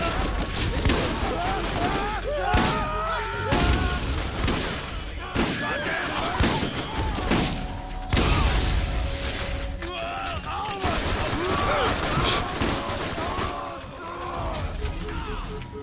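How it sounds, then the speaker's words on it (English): Shots from a slow-firing gun in the shooter game Borderlands ring out in repeated, spaced bursts with mechanical clatter amid battle noise, while people talk at times. "Oh, this is much slower fire rate."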